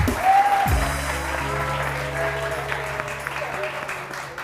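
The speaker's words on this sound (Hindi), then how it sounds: "बहुत बहुत सारी तालियां इनके लिए," Studio audience clapping on a live TV morning show, a steady wash of applause under a sustained low musical tone and a brief synth flourish.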